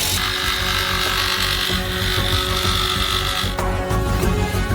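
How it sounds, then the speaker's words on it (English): A jigsaw cuts through a large pipe with a continuous buzzing, rasping drone that runs for several seconds. Its tone shifts briefly near the end. "and then cut the pipe with a jigsaw."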